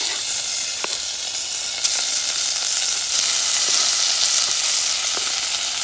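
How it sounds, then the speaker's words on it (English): London broil steak sears in hot oil in a pot over a fire, giving a loud, steady sizzle and crackle that continues alone for several seconds with a few sharp pops. "let's take it over and start searing it off in the pot on the fire"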